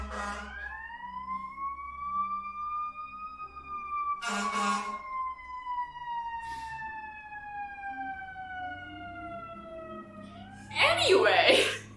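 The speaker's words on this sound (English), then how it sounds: "Fire truck, no, that's an ambulance." An ambulance siren passes in one long, wailing sweep whose pitch slowly falls as it goes by, heard at moderate distance with brief bursts of speech in between.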